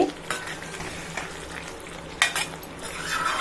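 A spoon stirs ennai kathirikai kuzhambu, an eggplant curry bubbling in oil, in a pan. Soft close scraping and clinks play over a steady, quiet sizzle.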